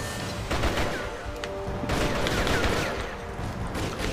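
Sustained, dense gunfire fills the whole stretch in the PS2 action game Rise to Honour: loud overlapping shots and bursts with crashing impacts, no pauses and no talking.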